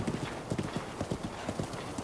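Horse hooves clip-clop in a steady, brisk rhythm as a horse trots along in Breath of the Wild, moderately close and fairly quiet, with no talking over them.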